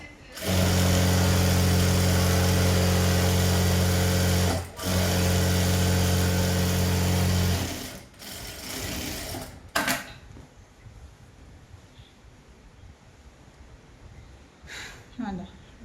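A sewing machine stitches a pant seam in two loud, steady bursts with a brief break between them, a humming motor whir up close, then stops while a person talks quietly.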